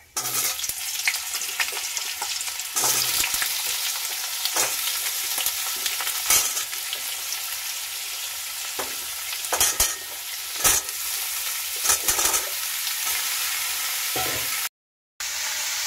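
Cut pumpkin and potato hit a hot tempering of black cumin seeds in oil, giving a loud continuous sizzle with repeated scraping stirs and clatters of a spatula in the pan.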